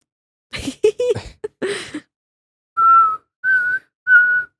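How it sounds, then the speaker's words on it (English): A short burst of voice sounds, then three sustained whistled notes, each held about half a second with brief gaps, clear and close. "Why do you whistle like that?"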